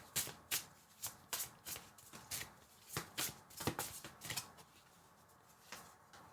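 Oracle cards are shuffled by hand in a series of crisp riffling bursts, roughly a dozen quick papery flutters at an uneven rhythm, close and fairly quiet with no talking.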